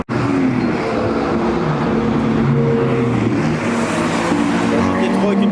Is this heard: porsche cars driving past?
yes